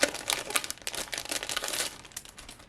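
Paper sheets in a thin plastic sleeve from a stamping and card-making kit are handled up close, giving a steady run of crinkling and rustling with small bursts of crackle and no talking.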